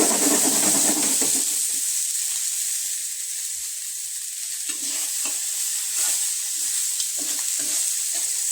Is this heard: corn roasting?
yes